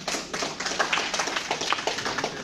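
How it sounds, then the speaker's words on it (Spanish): An audience claps for a speaker at a Spanish-language public talk, a brisk, dense patter of hands from a small group, steady and fairly close. "un aplauso acá al compañero"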